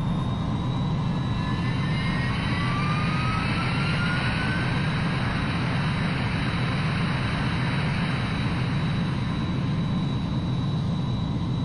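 A jet airplane roars on takeoff, a loud continuous engine rumble with a rising whine that holds steady throughout, close and alone without voices.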